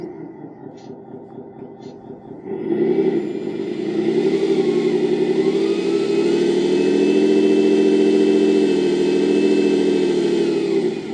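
Engine sound from a 1/14 scale CAT 740 model dump truck starting up after quiet, then a steady mid-pitched running drone rising slightly in intensity, close and continuous with no talking.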